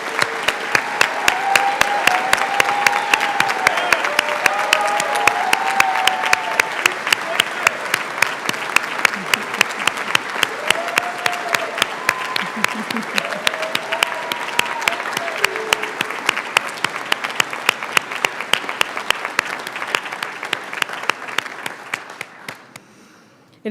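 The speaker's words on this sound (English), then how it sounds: "we're all going to clap again" Large audience of family, friends and colleagues at a dental school white coat ceremony claps in rhythmic unison, a loud, steady beat that keeps going for over twenty seconds, with voices calling out over it before it trails off.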